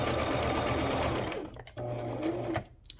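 A sewing machine stitches zigzag and straight stitches rapidly and steadily up close, its motor whirring, then slows and pauses briefly before running again.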